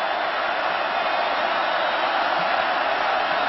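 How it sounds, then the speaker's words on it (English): A college football crowd at a Western Kentucky versus LSU game fills the stadium with a steady, loud wash of cheering and roar that does not let up and has no distinct voices. "Crowd coming to life again"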